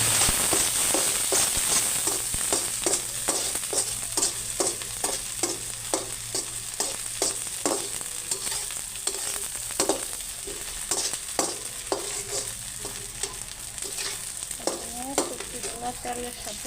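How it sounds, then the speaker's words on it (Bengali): Dried fish (shutki) fries in oil with a continuous close crackle and sizzle, broken by regular scraping stirs of a utensil against the pan, and no one talks. "প্রথমে আমি শুটকিগুলো তেলের সাথে ভেজে নেব।"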